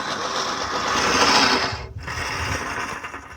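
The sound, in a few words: reel lawn mower cutting grass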